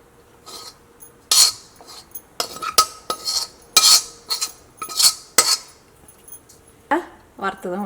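Garlic tomato rice being spooned from a cooking pot onto a serving plate: repeated close metal scrapes and sharp clinks of a spoon against cookware, coming in bursts, with a voice briefly heard near the end.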